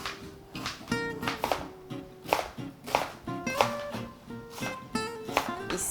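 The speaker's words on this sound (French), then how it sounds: "On va couper le giromont en gros dés. On va couper les oignons aussi." A knife chops giraumon squash and onions on a board in a quick, irregular run of crisp taps, close and fairly quiet, with faint music underneath.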